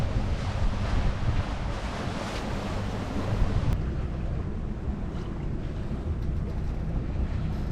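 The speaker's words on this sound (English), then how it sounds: "feels like about 6 knots of wind" Steady wind roars across the microphone aboard a sailboat under way at about seven knots in light breeze, with rushing water and waves beneath, loud and unbroken throughout.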